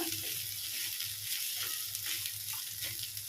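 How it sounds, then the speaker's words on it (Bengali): Ingredients for paneer pulao sizzle steadily in hot ghee, a continuous crackling fry close up with faint stirring scrapes and no voices. "এবারে ভালোভাবে ভেজে নিচ্ছি চারটা ঘির মধ্যে সামান্য উপকরণ দিয়ে হয়ে যায়"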